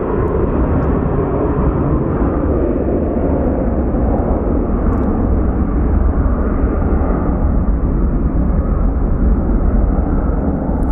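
A Boeing 737 jet airliner at Sky Harbor International Airport gives a steady, loud, broadband engine roar that holds evenly throughout without breaks or voices.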